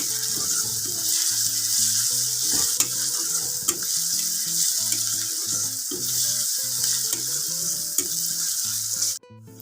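Ground garlic and ginger paste being fried and stirred with browned onions in a chicken curry pan, a constant near sizzle marked by spoon scrapes and light knocks, music behind, cutting off sharply at the end.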